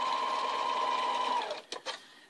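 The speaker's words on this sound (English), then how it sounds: "Start on this side, line our material up, and then we want to sew it down." A sewing machine stitching a fabric seam for an eight-pointed star quilt block runs steadily and close for about a second and a half, then slows and stops with a few short clicks.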